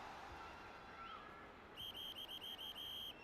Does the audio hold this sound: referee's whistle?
yes